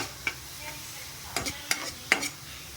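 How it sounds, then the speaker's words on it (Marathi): Onion frying in a pan while being stirred, a low steady sizzle with a few sharp spatula scrapes and taps against the metal, close and quiet. "कांदा ब्राऊन होऊपर्यंत थोडा भाजून घ्यायचा"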